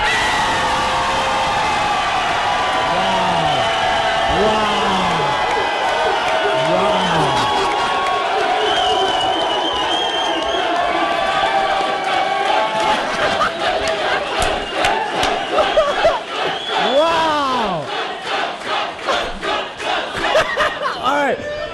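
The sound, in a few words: crowd cheering and chanting for the Red Skeleton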